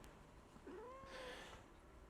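A pet cat gives a single rising-and-falling meow, soft and fairly close, against a quiet room background.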